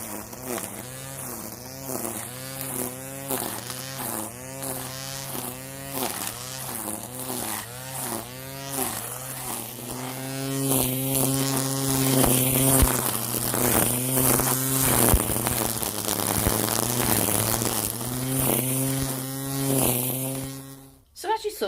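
A Bosch EasyGrassCut 18 cordless strimmer whines steadily at close range for about twenty seconds. Its pitch wavers at first, then steadies and grows louder when it cuts, and it stops abruptly at the end.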